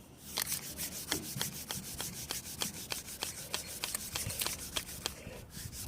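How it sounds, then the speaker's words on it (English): Diamond paste is rubbed by hand into a balsa wood strop in quick, rhythmic back-and-forth strokes, about three dozen close dry scrapes in steady succession. "this rubs it in to the grain of the balsa"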